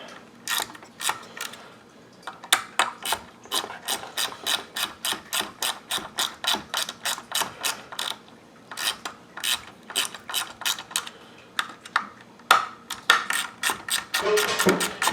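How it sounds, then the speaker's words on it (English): A hand ratchet drives screws into a Pioneer SA-6500 II stereo amplifier, sharp clicking bursts repeating in quick, even runs with short pauses between strokes, close and clear with no talk. "Let's get the ratchet to finish it."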